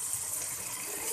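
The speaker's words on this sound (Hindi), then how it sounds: "ये देखें हल्का सा पानी डाला" A little water goes into a pan of cooking spices, a short close splashing gush with a soft sizzling hiss lasting about a second, with no talking.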